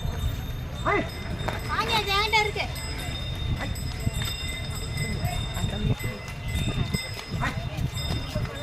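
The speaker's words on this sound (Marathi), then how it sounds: "अशा प्रकारची बैलगाडी आहे." Steady clopping of hooves and a rolling bullock cart outdoors in Coimbatore, with people talking over it and a busy open-air background.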